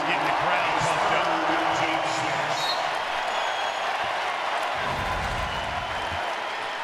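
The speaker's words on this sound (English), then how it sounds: "He's getting the crowd pumped up." A basketball crowd at a Tennessee vs Georgia game roars in a loud, sustained wash of cheering while a commentator talks over it.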